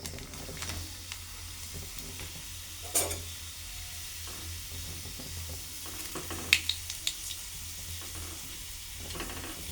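Papadam frying in hot oil, a steady close sizzle with crackling bursts and occasional utensil clinks as they are turned and stirred, no voices.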